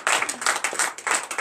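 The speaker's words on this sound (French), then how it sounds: "Donnez l'acclamation à l'Éternel" A church congregation at a Saturday morning prayer service in Comè, Benin claps in a quick pulsing rhythm of bright, close bursts that swell and dip several times during a short stretch.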